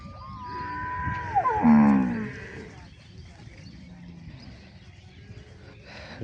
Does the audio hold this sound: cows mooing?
yes